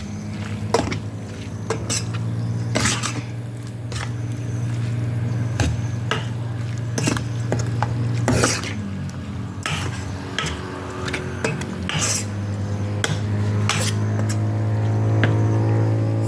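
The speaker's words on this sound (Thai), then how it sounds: "ต้นหอมผักชีนะคะ เสร็จแล้วเราก็จะคนคลุกเคล้าให้เข้ากันนะคะ" A spoon stirs and tosses Isan-style pork larb with fish sauce, spring onion and coriander in a metal bowl, giving repeated scraping clinks and clatters over a steady low hum, no talking.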